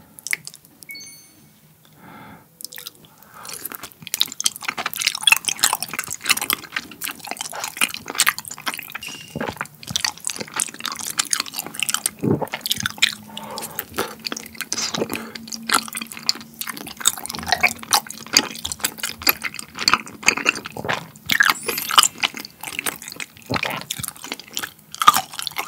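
Eating rose tteokbokki with wheat rice cake noodles and fried sides, close wet chewing, slurping and squishy bites in a quiet room, with soft sauce drips and no talking.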